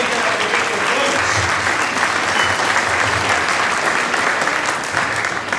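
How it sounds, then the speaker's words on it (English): Steady, dense applause from a rally audience fills the whole stretch, loud and sustained without letup, a broad wash of many hands clapping together with no voices rising above it. "And hey, Roger Reynolds, the audience, give him a great applause."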